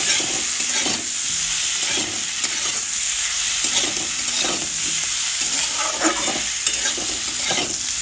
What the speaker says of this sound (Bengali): এবার সমস্ত মশলা দিয়ে আলুটাকে আমি আর একটু ভালোভাবে কষিয়ে নেব